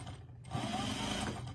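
A sewing machine stitches around the thumb of layered fleece mittens in a short, faint burst of whirring after a brief pause.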